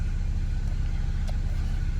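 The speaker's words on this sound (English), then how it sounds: "Car's idling beautifully." A 2009 BMW 335i engine idles with a steady low rumble, recorded close and constant with no voices.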